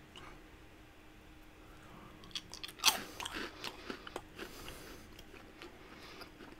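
Close-up biting and chewing of strawberry Pop-Tart snack cereal, starting with a sharp crunchy bite followed by a few seconds of quieter, moist chewing.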